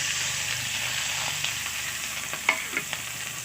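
Dried red chilies, bay leaf and panch phoron fry in hot mustard oil with a steady close sizzle, broken by a few light scraping stirs and sharp pops.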